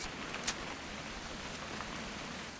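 Rain falls steadily in What Remains of Edith Finch, a quiet, even hiss of drops on surfaces with one brief tap standing out early, soft and continuous throughout.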